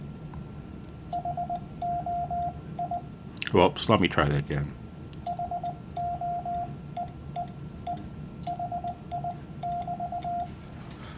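Short beeping tone bursts in an irregular dit-dah pattern, like Morse code on radio, with a brief spoken remark in the middle.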